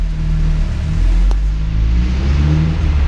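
Turbocharged van engine held at steady, loud revs on a dyno, a continuous low rumble and whir with no gear changes.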